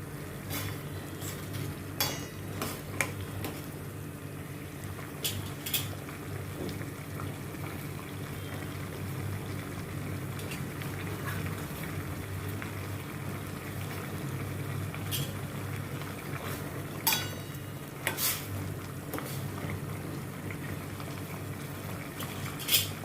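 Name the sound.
stirring chana chaat mixture in a pan while water dries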